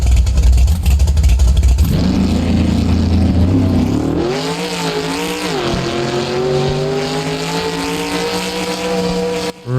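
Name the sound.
car engine revving in BeamNG video game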